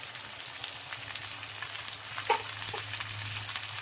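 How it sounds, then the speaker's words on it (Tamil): Onion and okra sauté in oil with a loud, continuous sizzle close by. Spatula stirs scrape through it now and then, and no one speaks. "ஒரு 5 நிமிஷம் இந்த வெண்டைக்காய், இந்த வெங்காயம் எல்லாம் வதங்கி வரணும்"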